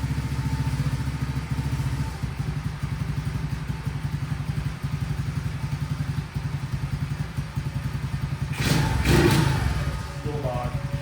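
A small CT70 clone motorcycle engine fitted with a Nibbi carburetor, not yet warmed up, runs with a steady pulsing idle close to the microphone, then rises in a short burst of revs near the end.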